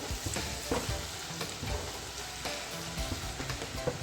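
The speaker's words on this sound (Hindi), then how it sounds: "तो इसको भी मैं हल्का सा इसमें भूनूंगी, इसके साथ थोड़ा सा प्याज के साथ" Close, busy sizzling and crackling of spices, onion, ginger and garlic frying in a pan for ridge gourd curry, with occasional scraping stirs under the continuous hiss.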